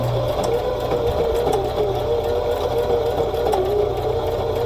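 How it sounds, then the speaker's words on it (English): A sewing machine runs steadily, stitching fabric with white thread, a constant close motor whir with rapid needle chatter and no pauses. "We're going to start sewing, and I'm using white thread so it's very easy for you to see."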